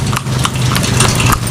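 A horse in Dagupan clip-clops with quick, loud, close hoofbeats in a steady rhythm over a low continuous rumble.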